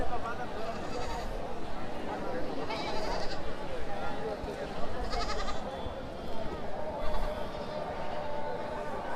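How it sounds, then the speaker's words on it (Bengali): Many goats bleating repeatedly amid a busy crowd's chatter at the Kendua Kalibari Kurbani livestock market, calls overlapping near and far throughout. "প্রচুর পরিমাণে কিন্তু ছাগলের আমদানি হয়েছে"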